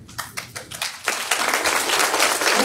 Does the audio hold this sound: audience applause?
yes